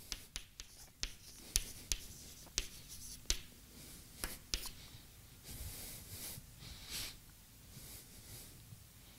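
Handwriting on paper during a statistics lesson: quiet scratching pen strokes with sharp taps and short scribbled bursts at an irregular pace, close and faint.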